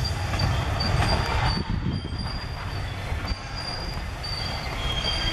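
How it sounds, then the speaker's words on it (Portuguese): Freight train of bauxite wagons hauled by a BB36 locomotive through Formiga, braking to a stop: a steady heavy rumble of rolling wagons with thin, sustained wheel squeals running over it, heard nearby throughout. "O trem parece estar parando."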